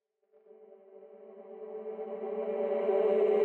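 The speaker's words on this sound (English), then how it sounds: "Kind of a reverse effect for the vocal." Reversed vocal effect made in FL Studio: a sustained voice-like tone that swells from silence and grows steadily louder to an abrupt peak, heard alone.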